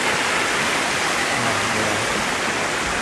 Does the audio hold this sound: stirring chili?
no